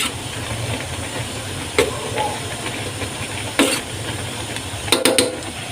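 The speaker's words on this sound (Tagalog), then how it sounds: "Ayun na nga, kumukulo na siya mga food trip." Water boiling in a pot on a stove while cooking spicy instant pancit canton noodles, a steady bubbling hiss punctuated by a few short sharp clatters and bursts.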